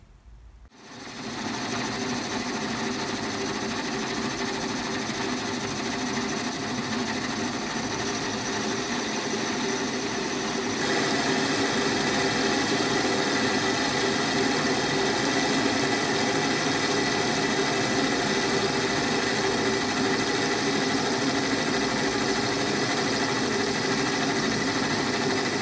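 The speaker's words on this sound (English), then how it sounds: "Let's get machining." A drill press, upgraded with brackets and ballscrews, runs steadily while machining metal, a constant close motor whine and hum that starts up at the beginning and grows slightly louder partway through, with no talking.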